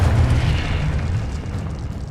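A Confringo explosion spell in a Hogwarts video game goes off as a deep, rumbling boom that is loudest at the start and slowly fades over about two seconds.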